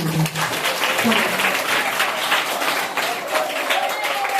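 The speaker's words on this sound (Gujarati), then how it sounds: "તાળીઓ પાડો જોઈએ" A room applauds the Gandhiji team for winning a quiz competition, with sustained, dense clapping from a group nearby, steady for several seconds, and a voice briefly audible at the start.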